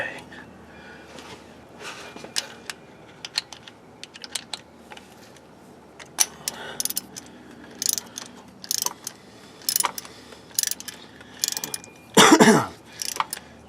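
A ratchet bolts down the oil pressure sensor on a 1999-2004 Jeep Grand Cherokee 4.7L, giving short bursts of clicking and light metal handling, with a louder ratcheting run near the end.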